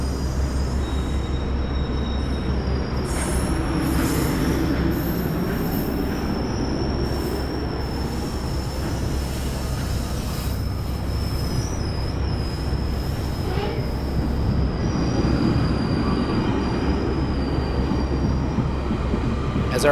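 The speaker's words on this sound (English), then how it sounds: "Say goodbye to our nice train that's going on to the Oshawa Go Center." Commuter GO train pulling out of a station on its way to Oshawa, a steady loud rumble of rolling railcars with high wheel squeals and metallic screeching throughout, close by and continuous.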